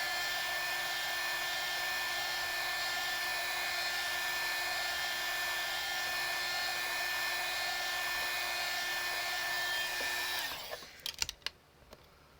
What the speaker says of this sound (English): This is heating up the resin that's on the back as well as the resin that's on the front.